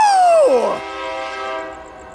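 A freight train led by Warbonnet-painted locomotives passes at Sorrento Valley, San Diego. A loud, close horn blast falls sharply in pitch as it goes by, then gives way to a sustained, fading chord of horn tones over rumbling railcars.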